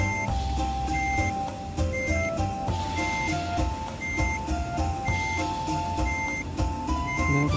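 Truck reversing beeps in the Truck Simulator Ultimate video game, a steady series of regular electronic tones repeating over the low rumble of the truck engine while backing up a trailer.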